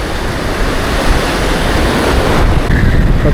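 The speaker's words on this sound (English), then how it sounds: "Load of nice white water." Rushing white water tumbling over river boulders, a steady dense broadband roar that fills the scene loud and close, with no speech over it.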